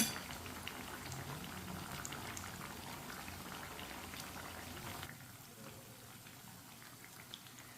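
Aloo tikki (potato patties) sizzle in a pan on low heat with a dense, even crackle. The sizzle drops to a quieter, softer level partway through, and no one speaks.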